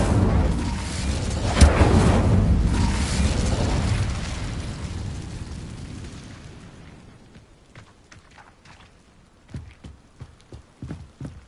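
Casting the Incendio fire spell in Hogwarts Legacy releases a loud, rushing burst of flame that roars for several seconds, then slowly dies away, followed by a few sharp, separate thuds.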